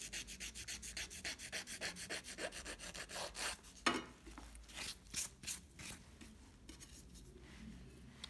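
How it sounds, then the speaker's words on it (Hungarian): A gel nail being filed into an oval shape, giving a quiet, close, rhythmic scratchy rasp in quick back-and-forth strokes that slow slightly partway through. "a körömnek a végleges formáját adom meg reszelésnél"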